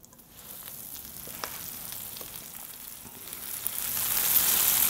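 Spinach cooking in a pan with fried chickpeas and chorizo, a steady close sizzle and hiss of frying that swells louder toward the end, with a few soft clicks of stirring and no voices.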